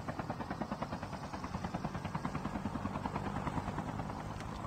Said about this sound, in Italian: prende l'elicottero.